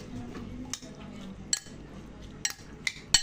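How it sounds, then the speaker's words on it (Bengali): Raita ingredients stirred together in a bowl, with a spoon clinking against the dish in several sharp, close taps over a low steady background. "সব কিছু একসাথে ভালো করে মিশিয়ে নেব"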